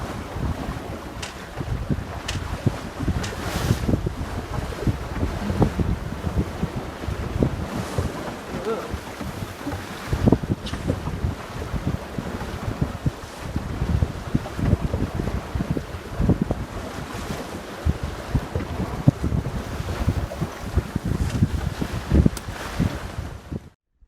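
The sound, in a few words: sailboat sailing at 6 knots in wind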